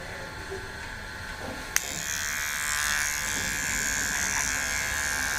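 A Philips electric beard trimmer buzzes steadily and close, with a sharp click as it starts or shifts position, then a continuous whirring hum as it trims a beard.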